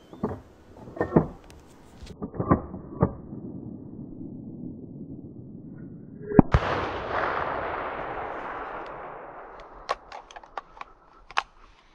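Hunting rifle shot at a large group of wild boar, a single sharp loud crack followed by a long rumbling echo that slowly fades outdoors, preceded and followed by scattered small clicks and handling knocks.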